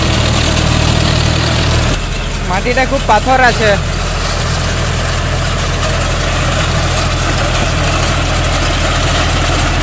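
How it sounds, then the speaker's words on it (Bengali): A John Deere 5050D tractor with an old V7 engine, 2014-15 model, runs steadily with a rotavator attached, a constant low engine drone throughout while someone speaks briefly near the start. "এটা V7 ইঞ্জিন বটে, পুরাতন ইঞ্জিন বটে।"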